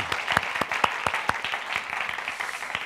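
A church congregation applauds during a worship service, with distinct individual claps standing out over a continuous patter of clapping that runs the full length without speech.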